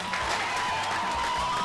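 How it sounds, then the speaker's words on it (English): A standing audience applauds Ghanaian teens, continuous clapping and crowd noise filling the room at a steady level, with a faint sustained tone running underneath. "I want to just make sure everyone stand up and give them a round of applause"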